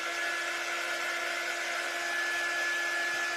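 A hair dryer runs steadily on a constant setting to dry paint on a homemade scarecrow door hanger, a close, loud and unbroken whir with no talking.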